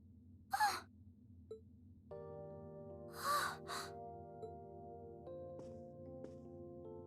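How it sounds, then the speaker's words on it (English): A video game character in Trails of Cold Steel 2 lets out two short breathy gasps, separated by a few seconds, over a soft sustained musical backdrop with quiet tones. "So much gasping."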